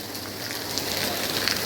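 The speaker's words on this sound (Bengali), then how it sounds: "এই দেখো বৃষ্টি অবস্থা দেখো" Rain falls steadily on surfaces outdoors, a continuous soft hiss with scattered patters, moderately loud and without voices.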